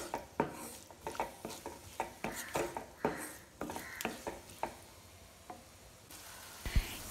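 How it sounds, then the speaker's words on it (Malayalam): Chopped garlic stirred in a pan for prawn cutlets, a quiet run of rhythmic spoon scrapes and taps over a faint sizzle, close and without talk. "വെളുത്തുള്ളിയുടെ പച്ചമണം മാറുന്നത് വരെ ഇതുപോലെ ഇളക്കി കൊടുക്കാം."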